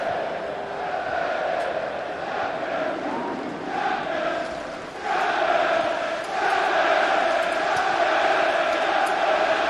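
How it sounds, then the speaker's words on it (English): A football stadium crowd at a Manchester United versus Southampton Premier League match reacts to Phil Neville's skill on the ball, a broad roar that swells and stays loud, with commentary over it. "the crowd love the skills from Phil Neville, don't they?"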